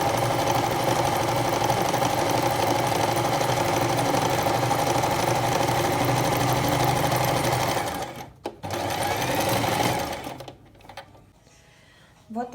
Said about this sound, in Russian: Вот, я шью без загибки. А далее я загибаю.